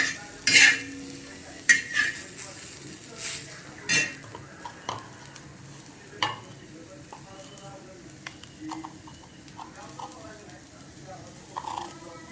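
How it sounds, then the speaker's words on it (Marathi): Ginger and coconut are stirred in a pan while masala roasts for a chicken dish, with intermittent clinks and scrapes of a metal spoon over a low sizzle. "अद्रक थोडंसं खाली वर करून घेऊया"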